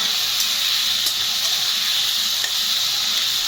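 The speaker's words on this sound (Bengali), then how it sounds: "একটু 1 মিনিটের মতো এটা জাস্ট একটুখানি ভেজে নেবো" Prawns frying in a pan with oil, an even, loud, continuous hiss and sizzle with occasional small pops, no voices.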